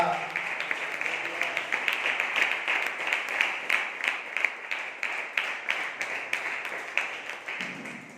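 A congregation at a Sunday church service claps in praise, a steady fast run of many hands clapping together with a voice over it.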